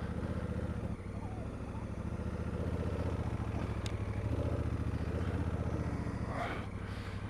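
A Honda CRF1000 Africa Twin motorcycle engine runs steadily at low revs as it rides up a small climb, a continuous rumble close by and fairly quiet throughout.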